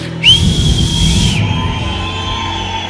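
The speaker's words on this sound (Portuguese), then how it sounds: "do meu aplauso, do seu aplauso, do meu assobio. Sabe assobiar, assobia." A single loud, high whistle from an audience member rings out, sustained for about a second over a murmuring crowd at a church service, with a fainter whistle lingering afterward.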